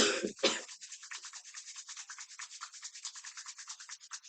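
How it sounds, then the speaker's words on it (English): Palms rub together briskly during a yoga session, a soft steady swishing friction repeated in quick strokes for several seconds, close and quiet with no talk. "Rub the palms one more time."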